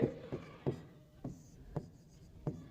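A pen taps and scratches across paper in short, regular strokes, several distinct ticks spaced through the moment as the laws of refraction are written out for a class 10 science lesson, close and fairly quiet.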